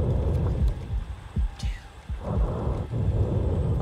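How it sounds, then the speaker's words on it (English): A heartbeat thumps in the survival horror game Silent Hill 2 Remake, a series of low throbbing pulses of uneven spacing under a dark rumbling ambience, with no speech. "I just heard a heartbeat."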